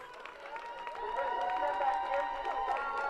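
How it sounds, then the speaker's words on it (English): Staff of the Alman Bank cheer and clap from the roadside in Peel as a walker passes during the Parish Walk 2025, a lively crowd of voices and applause that swells and stays steady throughout. "She gets a big cheer from the Alman Bank staff"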